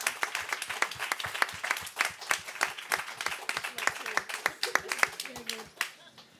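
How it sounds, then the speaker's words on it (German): Audience applause after a placing is announced at a campus university festival game show, dense rapid clapping throughout with a little voice and cheering mixed in near the end. "Einen Applaus."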